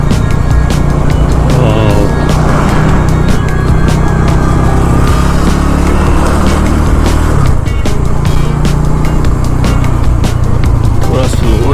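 Bajaj Dominar motorcycle climbing a hilly, rough road in Nepal, with a steady loud engine drone and wind rumble throughout while a rider talks over it.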